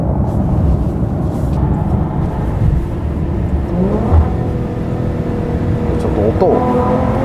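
A Maserati Quattroporte engine in sport mode, heard from inside the car while driving. A loud, continuous drone rises in pitch as the engine revs up, with a second climb near the end, and a voice speaks over it.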